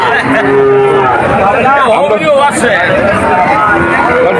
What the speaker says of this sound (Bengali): এই হাটে প্রচুর পরিমাণ গরু আছে